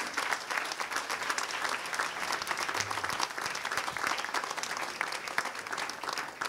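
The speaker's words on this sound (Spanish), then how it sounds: "Dele un aplauso al Rey" A congregation at a Hanukkah church service applauds, steady and moderately distant clapping spread across the room and holding at an even level throughout, with no voices on top.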